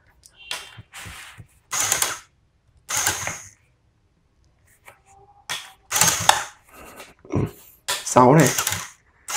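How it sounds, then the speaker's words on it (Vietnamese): A homemade coin-shaker machine rebuilt to shake dice automatically rattles and clatters in repeated mechanical bursts, with dice tumbling and knocking close by while someone talks between the bursts. "từ một cái máy lắc xu thì bây giờ mình có thể lắc xúc xắc"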